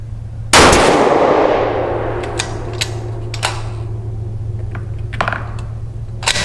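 A single sharp, loud crack from an X-Caliber 6XC carbon-barrel rifle at a 100-yard range rings out and decays slowly, followed by several light metallic clicks and clatters of handling the gun.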